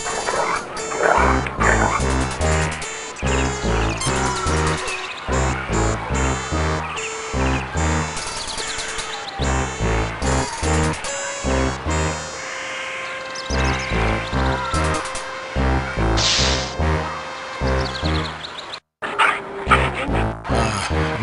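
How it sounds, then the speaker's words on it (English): A dog eats its meal hungrily in the Star Trek: Judgment Rites video game, with loud, continuous, rhythmic chomping and snuffling that repeats steadily for over twenty seconds. "The dog is now hungrily eating its meal."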